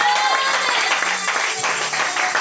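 A church congregation at a French-language sermon, applauding and cheering together in a steady burst of clapping with raised voices.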